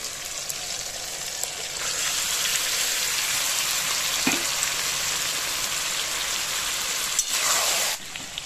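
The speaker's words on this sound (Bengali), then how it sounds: "এবার আমি মাখানো মাংসটাকে দিয়ে দেব।" Marinated mutton hitting a hot pan with tomato for a curry with papaya and potato, giving a steady, loud hiss and crackle of frying that lasts throughout with only small swells.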